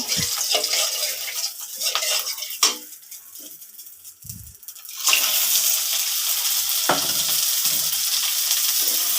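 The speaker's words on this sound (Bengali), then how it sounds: "তেলটা এবার নেড়ে নেব।" Hot oil is stirred in a kadai, producing a crackling sizzle broken by scraping strokes, dipping quieter midway before a louder, steady sizzle returns and continues to the end.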